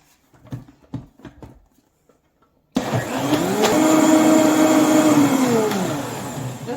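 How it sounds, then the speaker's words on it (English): Kitchen blender whirring through a cacao smoothie made with rice milk, starting abruptly after a few quiet clicks and knocks, then running loud and steady with a strained motor whine for several seconds. "And then I just blend it all up and see how it tastes."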